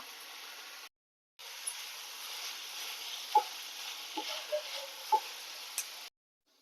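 Vathanarayana greens with green chilli sautéing in a pan: a steady, moderately faint frying hiss broken by a few light clicks and taps of a spatula, briefly cut out near the start, with no speech.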